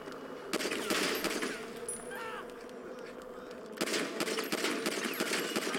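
Rapid bursts of pistol gunfire crackle in two long stretches in the video game GTA V, sharp and fairly close, with a short quieter gap between them.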